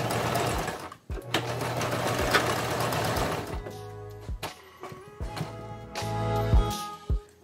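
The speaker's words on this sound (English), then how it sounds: "I'm just folding the rest and then holding it with my fingers on the other side, and I'm just gonna let the machine feed it through" A sewing machine stitches a tiny seam on a pair of doll jeans, running in steady motor bursts with short pauses and clicks between runs, close and clear.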